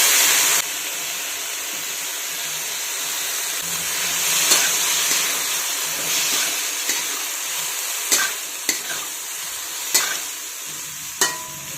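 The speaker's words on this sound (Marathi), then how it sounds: "आता ही जी उकडलेली भाजी आहे ना, तिच्यातून असं निथळून घ्यायची शेंग" Boiled flat bean pods (val ghevda) are drained of their cooking water, a steady hissing pour that runs throughout, with a few sharp clinks of a utensil near the end.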